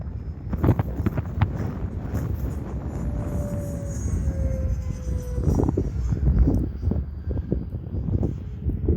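Gusty wind roars into the microphone at an outdoor RC jet flying field under gray clouds before snow, a steady low rumble with buffeting bursts and a faint thin whine in the distance.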